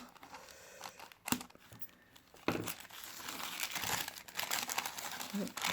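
Paper from a parcel crinkles and rips nearby in a few tearing bursts, with soft rustling in between and a voice speaking faintly underneath.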